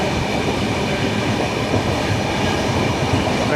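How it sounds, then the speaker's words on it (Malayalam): Train rumbling steadily at Munroe Thuruthu railway station in Kerala, a continuous loud, close roar of rolling wheels and carriages with faint high squeal, no voices over it. "ഇതാണ് മൺട്രോത്തുരുത്ത് സ്റ്റേഷൻ."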